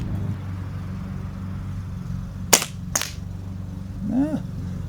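Crosman 1377 air pistol fired at a target, two sharp close cracks about half a second apart over a low steady background hum.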